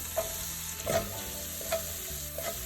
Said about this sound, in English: we are going to add in our onions